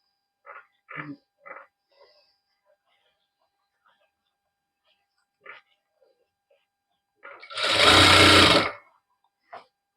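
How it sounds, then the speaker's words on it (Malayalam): A sewing machine stitching a child's sharara outfit, running in one steady, loud burst of about a second and a half. Short bits of speech come before it. "ഇപ്പൊ ആ ഒരു വശത്തും നമ്മൾ സ്റ്റിച്ച് ഇട്ടെടുത്തു"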